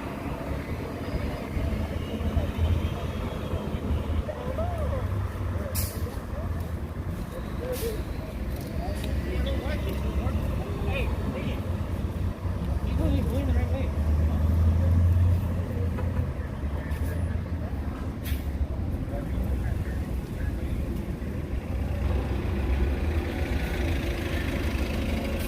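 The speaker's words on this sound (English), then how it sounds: "I hear a helicopter hovering somewhere." A helicopter hovers somewhere nearby over a Los Angeles protest, giving a steady low engine drone with a swell in the middle. Scattered street noise and a few sharp knocks ride on top.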